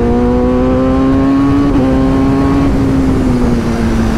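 A motorbike engine revs hard during an informal race against a pickup truck, giving a loud, steady droning whine that climbs slightly in pitch and carries on without a break, with no talk over it.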